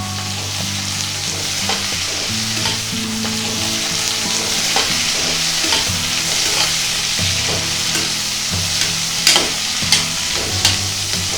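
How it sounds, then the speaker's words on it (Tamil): Chopped onions and green chillies sizzle and fry steadily in a pan for moong dal khichdi, with occasional stirring scrapes and clicks of a utensil throughout. "நறுக்கி வச்ச வெங்காயம், பச்சை மிளகாய் ரெண்டையும் சேர்த்து கொஞ்சம் வதக்கிக்குவோம்"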